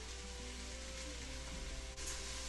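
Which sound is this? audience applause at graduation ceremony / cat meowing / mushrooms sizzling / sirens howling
mushrooms sizzling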